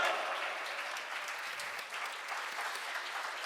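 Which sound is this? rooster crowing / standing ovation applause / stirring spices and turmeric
standing ovation applause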